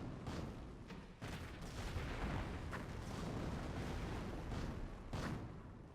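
An artillery barrage in the video game Company of Heroes, a US versus Wehrmacht match, pounds on without pause: dense rumbling booms and several sharper blasts stack into a continuous roar with no voices.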